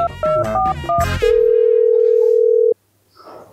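A phone call to a hotel manager begins with a quick run of keypad tones, then a loud, steady tone holds for over a second and cuts off abruptly into quiet room noise.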